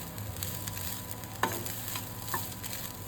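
Fried rice with fried vegetables and a little ghee stirred in a pan, a continuous low sizzle broken by a few sharp scraping and knocking strokes of the spoon, with no voices.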